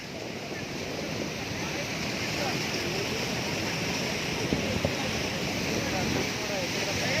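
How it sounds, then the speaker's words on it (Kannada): A constant, loud rush of water flowing at Haluvagilu waterfalls, broad and close, with wind buffeting throughout. "ಫುಲ್ ಇದು ಹರಿತಾ ಇದೆ ನೀರು"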